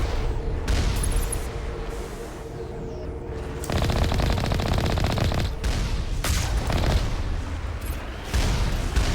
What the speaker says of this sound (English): it just shoots the wall because it's incredibly stupid